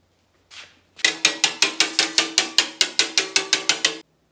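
A metal sheet for a Jeep CJ transmission tunnel clamped to a table and struck repeatedly, about a dozen sharp metallic bangs in a steady rhythm, close and loud with ringing tails after a short initial scrape.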